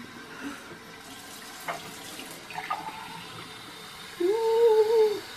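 Tap water runs steadily into a container being filled until it overflows, a soft continuous splashing that swells near the end, where a thin whistling tone rises over it.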